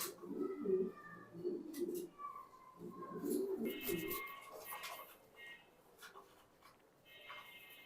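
Racing pigeons, grizzle racers, coo in soft, low, throaty bursts that come and go, mixed with scattered background noises.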